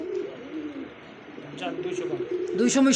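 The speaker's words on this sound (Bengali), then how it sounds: "দেখতে পাচ্ছেন চমৎকার একজোড়া জার্মান বিউটি কবুতর" A pair of German Beauty pigeons coo at a pigeon sale, their low, soft cooing running under people talking nearby.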